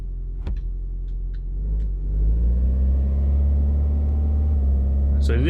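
A car engine idles steadily up close right after starting, then rises into a slightly louder, fuller running hum, with a few faint clicks over the top.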